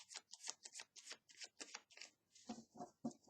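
Tarot cards shuffled close up, a quick run of soft riffling bursts and rustling flips in an uneven rhythm, faint and alone, with no voices.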